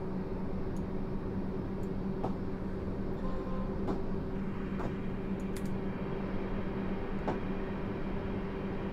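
A London Underground District Line train runs in Train Simulator 2022, a steady low rumble and hum of the carriage in motion with a faint whine and occasional light clicks and rattles.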